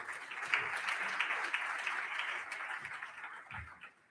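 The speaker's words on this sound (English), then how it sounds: "please let's clap" A symposium audience in a hall claps steadily, a dense, even patter of many hands that carries on for several seconds before thinning out.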